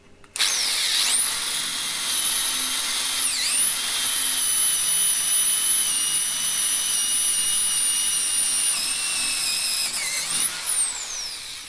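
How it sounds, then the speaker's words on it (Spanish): Felisatti SDF10 cordless drill running in drill mode with a 10 mm bit, a loud steady high-pitched motor whine lasting about ten seconds with two brief dips in speed, then winding down at the end. "Vamos a probar el modo taladro."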